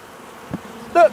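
One bee buzzes briefly and close by near a hive of about 40,000 bees, a short tonal whine after a soft thump against quiet background.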